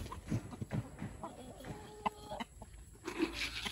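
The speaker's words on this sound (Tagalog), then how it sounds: "Ayun yung ating Plymouth Barred Rock na future broodcock." Free-range Plymouth Barred Rock chickens cluck softly nearby in an outdoor yard, with short scattered calls, faint background noise and a little talk.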